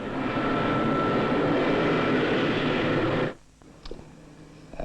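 Concorde 002 airliner engines roar steadily on the runway, a loud broad continuous rumble that cuts off abruptly, leaving quiet background with faint clicks.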